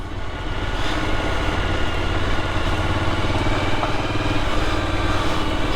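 A motorcycle on road tyres rolls along a gravel track with a steady engine drone and a constant crunching rumble, holding even and close throughout.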